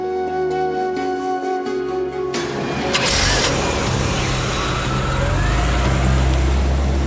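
A car engine starts up with a burst of noise and drives away, a broad roadway rumble continuing steadily and fairly loud after the start.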